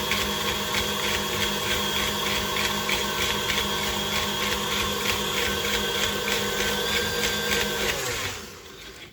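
An electric mixer creams butter cookie dough with a loud, steady motor whir and a rhythmic beater rattle in the bowl, running without voices until it winds down near the end.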